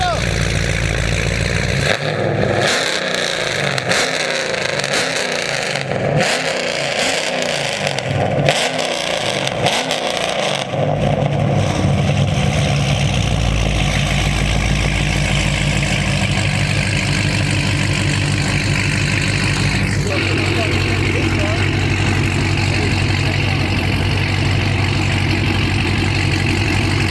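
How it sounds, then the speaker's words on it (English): A 2021 Dodge Charger Hellcat Redeye engine idles with a deep, steady rumble close by, after a few early throttle blips, with people talking nearby. "Come rev it up. Come rev it up."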